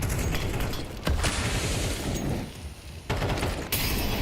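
Grenades burst in the video game Counter-Strike on the Inferno map, heavy booms mixed with gunfire in a dense, loud barrage that surges several times over a few seconds.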